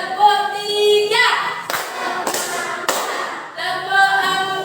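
A group in a teachers' training session claps along to an Indonesian counting routine. A few sharp clap bursts are spaced between chanted voices, forming a call-and-response rhythm.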